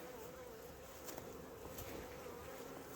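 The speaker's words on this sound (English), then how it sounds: "Lots of bees." Honeybees from a hive housing a captured tree swarm hum in a dense, continuous drone, with louder buzzes as individual bees pass close by on a hot day.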